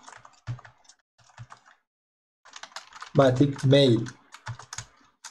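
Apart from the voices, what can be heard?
typing on a computer keyboard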